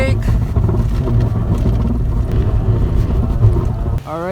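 Jeep on 37-inch BF Goodrich AT tires braking in snow, a steady low engine and tire rumble with wind buffeting the microphone, then a sudden drop near the end as it stops.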